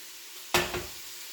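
A sudden loud sizzle bursts in as onions hit a hot Instant Pot, then a crackling fry that slowly settles.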